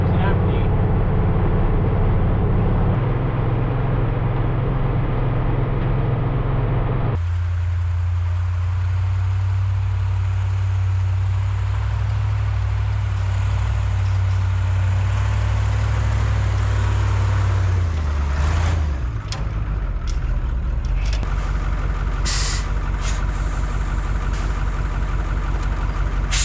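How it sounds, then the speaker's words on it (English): A 1975 Ford L8000 dump truck with a Cat 3208 diesel, running empty in snowy, icy cold, gives a loud, steady low engine drone that drops off after a while, then a sharp hissing burst near the end, with someone talking over it. "So this is my new dump truck. It's a 1975 Ford L8000."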